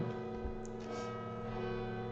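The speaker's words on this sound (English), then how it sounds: "this church bells, they go like for so long, man" Church bells ring on and on in the distance, a sustained layered tone that hangs steadily, moderately faint under a quiet background.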